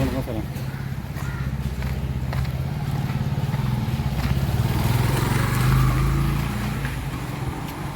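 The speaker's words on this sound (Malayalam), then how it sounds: "scooter bike" Scooters and motorbikes pass nearby in steady street traffic in Pondicherry, engines droning and swelling, with people talking over the noise.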